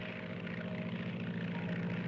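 Small fixed-wing propeller airplane of the kind flown to hunt wolves in Alaska, its engine drone steady and fairly loud throughout with a continuous buzzing hum and no voices.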